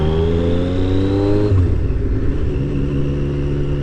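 A Triumph Daytona T595 motorcycle engine drones under riding, its tone climbing steadily then dropping sharply at a gear change or throttle lift, followed by a lower rumbling run, loud and close with wind noise.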